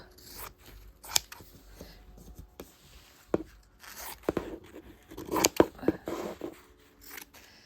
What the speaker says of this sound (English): I grab my extremely sharp scissors, my lovely shears, and then do a quick choppity chop